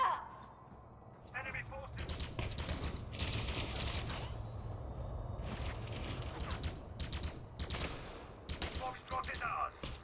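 Pistol gunfire in the first-person combat of the video game Elite Dangerous Odyssey, shot against an NPC once its shields are down, with repeated sharp bursts of shots over a steady background of game noise and talk.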